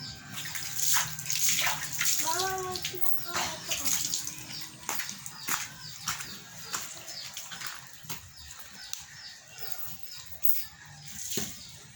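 Water splashing and rinsing over a dog during a bath at home, running and pouring in uneven bursts with sharp splashes, close by, with some faint background voices.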